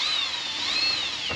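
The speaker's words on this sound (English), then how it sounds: "I love self-drilling screws." A drill drives self-drilling screws into the interior of a 1953 Kenworth Pacific truck, a steady high whine with a pitch that wavers and rises slightly, ending in a brief low thump, close and alone.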